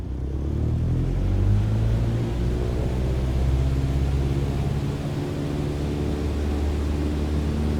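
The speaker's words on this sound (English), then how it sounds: "Apply full power and I'll walk you through the takeoff as we go." An airplane engine at full takeoff power in Microsoft Flight Simulator gives a loud, steady droning roar with a deep tonal hum that holds throughout.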